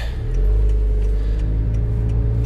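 A 2018 Honda Accord with a Borla exhaust rumbles close by in a deep, steady idle. The note swells slightly, with faint crackles above the low drone and no talk.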